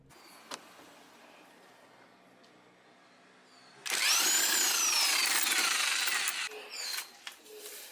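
A power tool with a 19mm socket removes strut mount bolts during a strut mount replacement: a loud whirring burst runs for about three seconds, rising and falling in pitch, then stops, after a quiet stretch of faint background noise.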